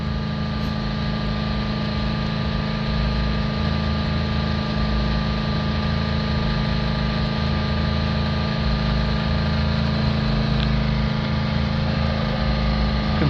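A Subaru Forester 2.0 diesel engine, with a blocked particulate filter in limp mode, holds a constant 3000 rpm, a steady buzzing hum with strong tonal harmonics that barely changes across the stretch.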